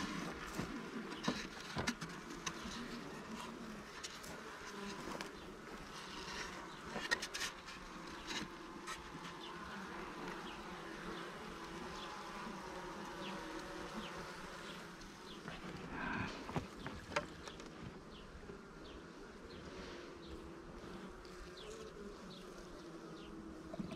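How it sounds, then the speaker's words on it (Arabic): Honey bees in an opened hive during a queen-rearing check, a dense, steady buzzing swarm heard up close with occasional rustling handling noises and no talk. "كلها كمشة نحل"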